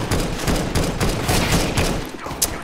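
Dense rapid gunfire from the CS:GO shooter on an Aztec remake map, a steady clatter of automatic shots with sharp cracks filling the whole stretch, loud and close.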